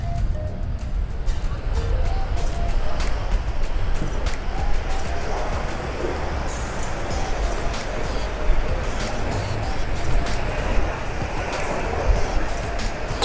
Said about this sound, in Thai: คลื่นทะเลแรง